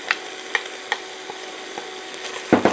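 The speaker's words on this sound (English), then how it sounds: "we're going to go in with our 1 carrot, onion and celery" Chopped carrot, onion and celery hit a hot pan with garlic and fry with a steady close sizzle, broken by a few sharp stirring clacks near the end.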